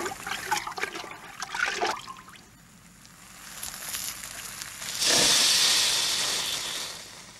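A cartoon chip pan fire in a kitchen hisses as a damp cloth smothers it, a broad steamy hiss swelling loudly near the end after softer crackling and clatter.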